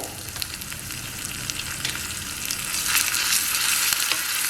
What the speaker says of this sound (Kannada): ನೋಡಿ ಇದು ಒಗ್ಗರಣೆ ರೆಡಿ ಆಯಿತು